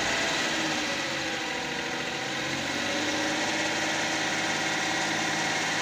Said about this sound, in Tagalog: I-rev natin.